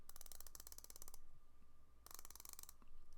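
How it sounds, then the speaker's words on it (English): Addies Dive watch's 120-click unidirectional bezel turned in two quick runs, each a rapid string of crisp, close metallic clicks separated by a brief quiet pause. "It's a 120 click unidirectional bezel. Really nice, distinct clicks."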